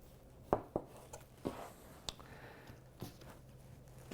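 A butcher knife slices silver tip steaks from a sirloin tip knuckle, giving a few faint, separate cutting thuds and soft knife contacts against a board, with no talking.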